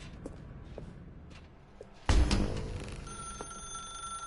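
A telephone in the video game The Stanley Parable starts ringing abruptly after a few faint thumps, a loud close bell-like ring that settles into a sustained steady tone with no voices.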